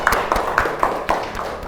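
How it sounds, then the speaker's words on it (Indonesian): Primary school pupils clap for a group in a classroom, producing quick, regularly spaced claps over a low background murmur. "Beri tepuk tangan untuk kelompok 2."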